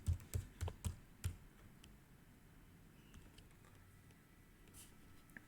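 Keys tapped on a computer keyboard while entering a bank SWIFT code, five quick clicks in a burst at the start, then a few faint scattered taps in a quiet room.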